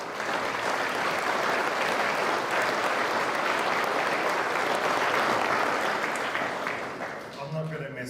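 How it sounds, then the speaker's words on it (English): An audience at a prize announcement for a competition runner-up breaks into loud, dense applause that runs steadily for about seven seconds before thinning out, with a voice beginning to speak as the clapping fades. "So let's give her a round of applause."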